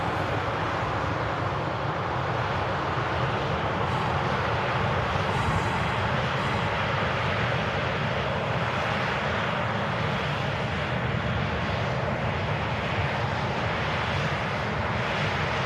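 A jet airliner on final approach into Manchester Airport gives a steady, broadband engine roar that holds at an even loudness throughout, with no voices over it.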